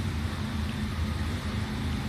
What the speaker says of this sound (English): he's been sitting there in the air conditioning with the engine running, idling